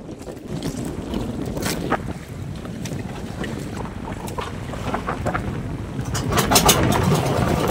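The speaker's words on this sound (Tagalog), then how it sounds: "malakas ang hangin, ang alon" Strong wind at sea buffets a small fishing boat during a storm, loud steady roaring gusts and microphone wind noise mixed with waves and water wash that swell louder toward the end.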